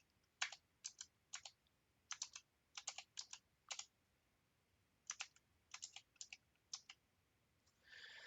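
Keystrokes on a computer keyboard while a BASIC program is entered, arriving in short uneven bursts of crisp clicks with pauses between groups, close and fairly loud, with no talking.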